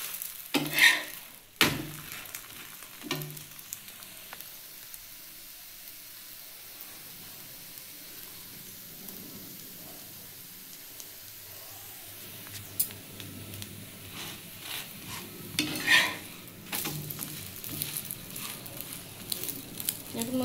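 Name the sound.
dalia paratha frying in pan on low heat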